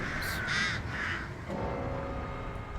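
A couple of raspy crow caws in the horror game Dead by Daylight, close and fairly loud at the start, then fading into a low background hum.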